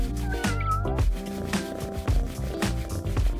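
A cat meows loudly and repeatedly during grooming and massage, drawn-out plaintive cries close to the listener with background music underneath.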